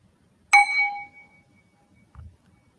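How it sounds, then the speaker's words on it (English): A single worship bell strikes once at a Sunday service, a clear ringing tone that sustains and fades over about a second, followed by a faint low knock. "Let the sound of this bell call us to worship."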